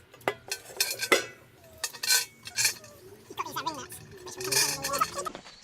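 A metal fire pit bowl is lifted and fitted onto its stand, giving a series of clanks, clinks and scraping knocks at close range, with people talking in between.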